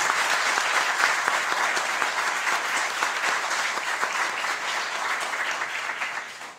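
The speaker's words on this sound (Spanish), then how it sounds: "pido un fuerte aplauso para el Instituto de Cultura" An audience at an academic panel claps steadily in a dense, even wash of applause that fades slightly at the end.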